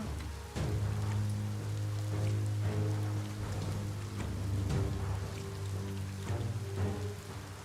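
Rainstorm in the video game Biomutant: a steady rushing hiss of rain with scattered drop impacts, layered over a low sustained musical drone, continuous throughout and without talk.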